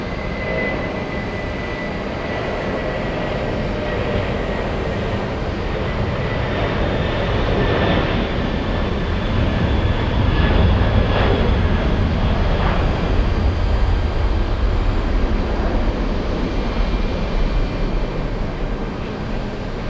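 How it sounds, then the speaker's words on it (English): Boeing 747 freighter takes off at JFK airport, a long sustained jet engine roar heard from a distance, swelling louder toward the middle and staying steady throughout. "747 on the roll"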